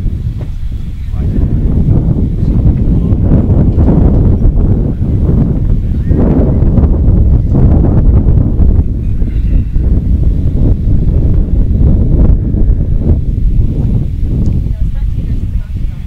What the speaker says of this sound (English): the wind picking up a little more